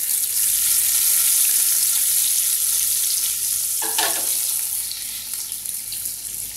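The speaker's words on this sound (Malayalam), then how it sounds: "നന്നായി വാഴ്ത്തുക." Sliced onion hits hot oil for a tuna curry, a steady loud hiss of frying that runs the whole time, with a brief clatter of stirring about two-thirds through and no voices.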